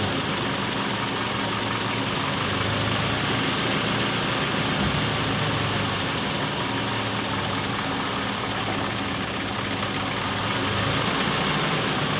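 A car engine idling with a vacuum leak, a loud, steady mechanical drone with vibration and a faint knock that rises and dips slightly as the idle surges, close to the microphone with no talking.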